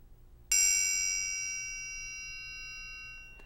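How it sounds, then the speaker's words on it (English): A single strike on the inside of a metal triangle's base near the closed end rings out clearly and alone, its bright metallic tone decaying gradually over a few seconds. "Now listen to the inside of the bass near the closed end."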